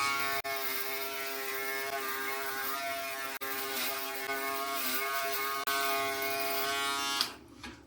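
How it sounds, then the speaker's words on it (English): A Wahl compact electric shaver runs across a face, giving a steady, close, harmonically rich buzz. The buzz drops out briefly three times, then cuts off just before the end. "So far it feels fairly smooth, and I don't feel a lot of tugging or any irritation as I'm shaving along."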